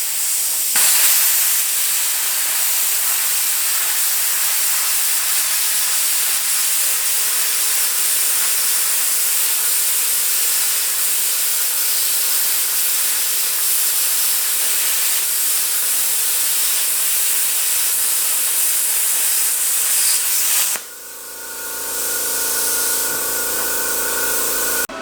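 An ARCCAPTAIN Cut 50 plasma cutter slices through 1/2 inch steel with a loud, continuous hissing roar that runs for about twenty seconds and then abruptly cuts off, leaving quieter shop noise.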